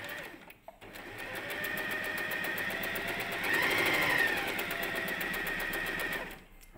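Sewing machine running steadily as it stitches fabric, a close, continuous rapid mechanical whir that swells a little in the middle and stops near the end.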